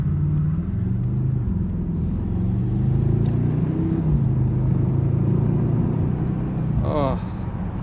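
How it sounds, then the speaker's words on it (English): Low engine rumble from a 2025 Mercedes-AMG GLS 63 SUV with a 603 hp engine, heard from inside the cabin while cruising. The drone is steady and continuous, and a voice talks over it throughout. "it just feels so good driving this car."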